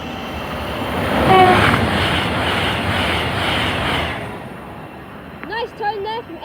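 A train horn sounds briefly at Stevenage station on the East Coast Main Line, over the loud rumble of a train moving through the platform. The noise fades, then a voice speaks near the end.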